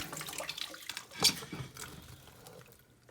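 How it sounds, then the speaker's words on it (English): Cold tap water rinses cooked pasta in a cooker pot, a short, splashy rush of running water with a louder burst partway through that fades toward the end. "So here I'm just washing it off, rinsing it off with the cold water"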